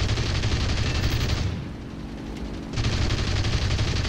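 Aircraft machine guns in War Thunder rattle in dense, loud continuous bursts of deflection fire, pausing for about a second before the rapid fusillade resumes close and sustained.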